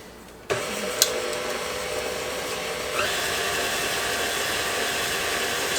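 An electric kitchen mixer blends a cup of oil with one and a half cups of sugar for a fig preserve cake; a steady motor whir starts abruptly and runs continuously, rising slightly in pitch partway through, with no talking.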